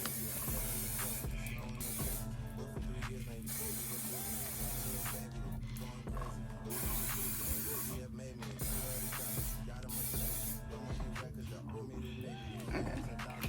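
Aussie Sleek and Warrior dry conditioner sprayed onto hair from an aerosol can, several hissing bursts of a second or so each, close to the mic, amid a busy indoor background.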